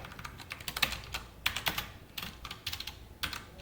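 Computer keyboard typing while writing Java code for an ArrayList example, bursts of quick key clicks in short clustered runs with brief pauses, close and clear with no talking.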